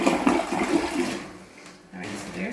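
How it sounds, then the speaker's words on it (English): A household toilet flushes in a single close, loud rush of water that fades toward the end, with no talking over it. "Once you flush, just keep an eye on it."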